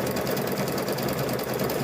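A sewing machine runs steadily, stitching coiled fabric rope into a rope bowl, its rapid mechanical chatter close and continuous with no voices.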